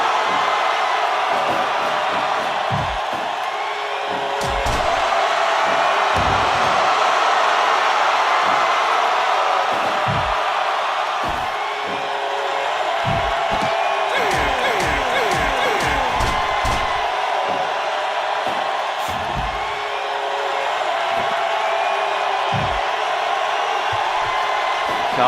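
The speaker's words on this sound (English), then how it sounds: "The crowd is loud." Loud crowd at a cage-of-death match in an arena, a sustained roar of cheering and shouting with scattered sharp slams and thuds, while an announcer talks over it.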